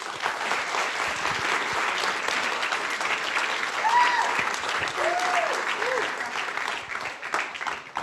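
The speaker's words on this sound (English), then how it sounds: "Let's give a round of applause again." A live audience at a teen AI demo day gives a round of applause, sustained steady clapping throughout, fairly loud, with a few faint voices and a brief whistle-like tone mixed in.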